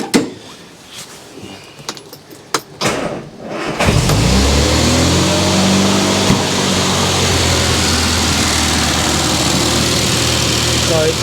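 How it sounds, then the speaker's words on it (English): A Riley Kestrel 1300 engine catches after a few quiet seconds, then runs loud and steady with throttle blips, close by the car in a warm engine bay. "So we'll get the engine fired back up again."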